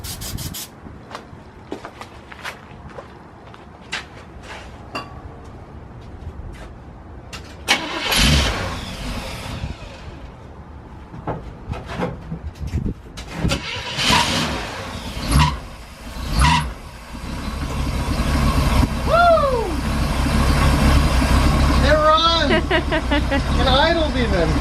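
A Chevrolet C10 truck engine cranks and catches on its first start with rough sputtering bursts amid knocks and voices, then settles into a loud, steady close idle with rising revs.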